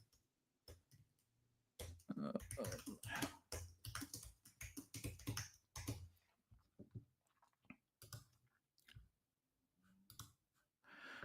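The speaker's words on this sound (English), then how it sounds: "Type up another banner." Typing on a computer keyboard, brisk irregular bursts of close, crisp key clicks with short pauses between runs, quiet in level and alone without speech.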